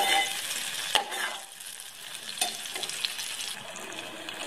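Onions frying in a pan for aloo pulao, cooked to light golden brown, give a steady close sizzle with occasional stirring scrapes and small clinks, no voices.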